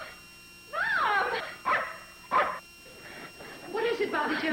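A dog gives several short barks and yips in a sitcom household, each a brief harmonic burst separated by pauses and set against quiet room tone.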